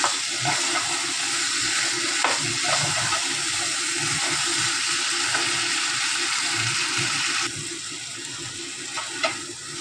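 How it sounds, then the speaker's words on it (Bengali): Chickpeas frying with spices in a pan for channa masala, a continuous close sizzle with scattered stirring clicks, dropping slightly in level near the end, no voices. "চানাটা দিয়ে মিনিট খানেক 5 মতন আমি কষে নেবো।"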